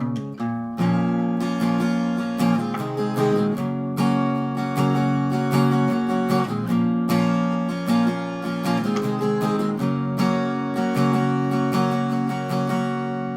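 Acoustic guitar strums the intro of a song in a steady down-up pattern, sustained chords ringing cleanly and alone at moderate volume.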